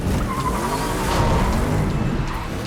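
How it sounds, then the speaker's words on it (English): In a car chase film scene, the Batmobile's tires squeal and skid under a loud, dense roar of engine and crashing noise, sustained across the whole moment. "we really fell in love with the final sequence, which is a great Batmobile chase"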